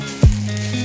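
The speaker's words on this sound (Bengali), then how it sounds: "সব সবজিগুলো আগে ভেজে নেওয়া হবে" Vegetables dropped into hot oil in a kadai over a home clay stove for shukto hiss with a sudden loud sizzle, then settle into a steady, close frying crackle.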